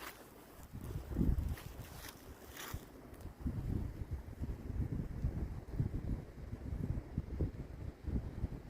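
Gusty wind on a cold north-facing slope buffets the microphone in low rumbling surges, steady throughout with stronger bursts every few seconds, no voices present.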